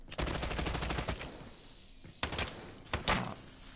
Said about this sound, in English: This gun was shredding.